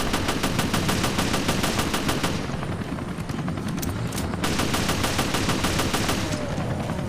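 Sustained rapid gunfire in Resident Evil Revelations' Abyss Raid Mode, dense automatic bursts that fill the clip, briefly thinning mid-way before resuming at full loudness, with no talk.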